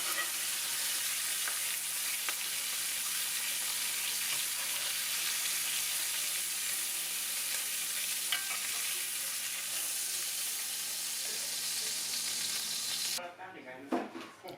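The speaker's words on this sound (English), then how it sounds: "I'm just grabbing the butter and just putting it over the steak, moving that flavor around" A steak sizzles loudly and continuously in a pan while being basted with butter, a dense steady frying hiss with faint scraping, ending abruptly in a brief clatter.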